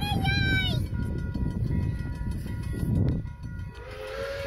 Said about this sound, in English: Watch the train.